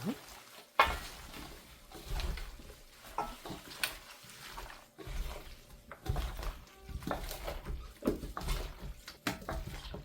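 Cubed radish kkakdugi is tossed and mixed with chili powder, giving wet, squelching, clattering bursts in an irregular rhythm, close and moderately loud with brief pauses between handfuls.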